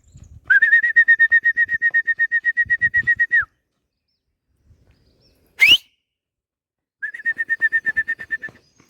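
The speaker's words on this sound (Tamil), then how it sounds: "ஸோ இப்போ தான் ரெக்கை அடித்து பயங்கரமாக பறக்க ஆரம்பிச்சிருக்கு." A released pigeon takes flight. Its wingbeats come as two long runs of rapid, rhythmic whistling pulses, separated by a brief sharp rising sweep, close and clear against silence.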